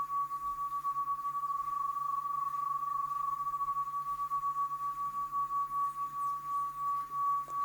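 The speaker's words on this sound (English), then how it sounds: "This is the chorus effect." A steady pure electronic sine tone holds throughout, thickened by a faint wavering shimmer from a Roland RE-501 Space Echo's chorus effect, with a low hum underneath.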